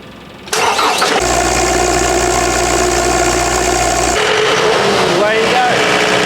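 PD250 diesel compressor engine cranking and catching, settling into a loud steady close-up idle with a deep low hum, then the tone shifts as it keeps running; a voice speaks over it.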